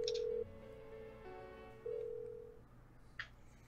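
Unanswered phone call ringing in a video game: electronic telephone tones that come in steady bursts with short pauses, fairly loud and clear, with no talking.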